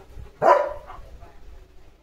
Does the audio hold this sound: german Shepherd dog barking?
yes